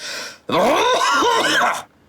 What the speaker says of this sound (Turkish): Sen öksürdün.